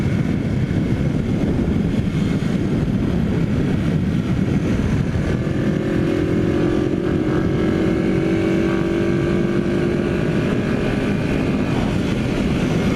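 A 1981 Yamaha XS 400 motorcycle cruising in sixth gear on an afternoon commute, its engine drone steady and loud throughout with wind rush, a rising tonal whine emerging partway through.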